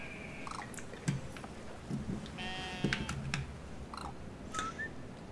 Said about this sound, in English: I can hear a goat somewhere.